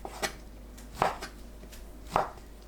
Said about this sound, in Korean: 어묵을 길게 썰어주세요.